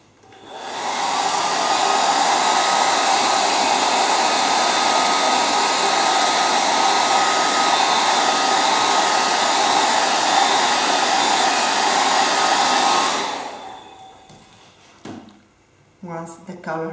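Hair dryer drying paint on a Stamperia Colorink crackle craft project, a steady loud whooshing hum running continuously for about twelve seconds before switching off, followed by a person talking.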